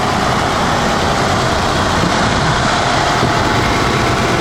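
A Yamaha FZ-07 motorcycle engine idles steadily and close by, a continuous even rumble with no tapping or knocking and no break from start to finish.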